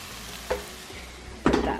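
Air-fried vegetables are tipped into a hot pan and stirred, giving a steady sizzle with two louder bursts of scraping and clatter as the food lands and gets tossed.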